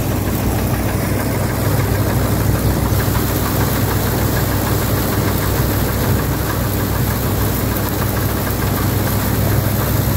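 A John Deere tractor with front weights runs in a high gear, producing a loud, continuous close-up engine drone with a slight knocking texture throughout and no speech.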